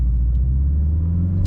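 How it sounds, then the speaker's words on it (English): BMW 330i xDrive in sport mode, its synthesized engine note piped into the cabin as a steady, low droning rumble that holds evenly throughout, close and fairly loud, with no talk over it. "you can hear the fake engine sounds pumping instantly"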